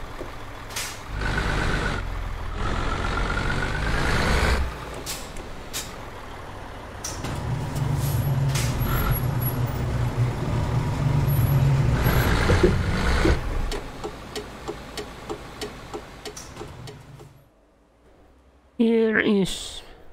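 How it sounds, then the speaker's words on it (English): A Scania R730 V8 truck in Euro Truck Simulator rumbles close by, with several sharp air-brake hisses and a run of evenly spaced reversing beeps before the engine noise drops away and a final short burst follows. "Here is the other truck. It is Scania R713 horsepower V8."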